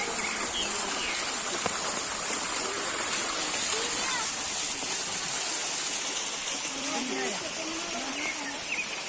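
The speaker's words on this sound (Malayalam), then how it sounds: "അതൊരു കുഞ്ഞു വെള്ളച്ചാട്ടം അതിനകത്ത് സെറ്റ് ചെയ്തിരിക്കുന്നു" A small waterfall set among plants in the garden of the Nilambur teak museum, giving a steady, close rushing of falling water that fills the whole stretch with no break.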